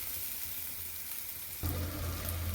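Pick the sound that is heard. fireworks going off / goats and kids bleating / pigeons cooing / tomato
tomato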